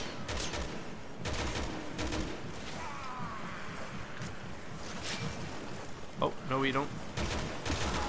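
Assault rifle fire in Resident Evil 6, a few separate bursts of shots spread across the stretch, sitting among game sounds and under voices talking over the action.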